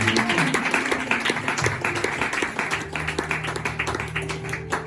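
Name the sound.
congregation applauding and cheering for Jesus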